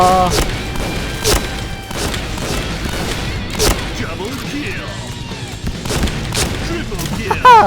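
A shotgun fires repeatedly in a zombie shooter video game, with sharp booming blasts at irregular intervals over busy game noise and chatter, loud and close.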